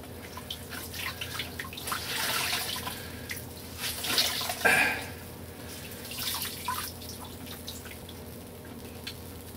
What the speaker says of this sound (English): Get as much water out of here as I can before I hang it up